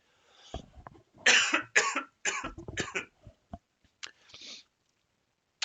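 A coughing fit from one person indoors, with a burst of loud, closely spaced coughs and throat clearing, followed by a few scattered smaller coughs and breaths trailing into quiet.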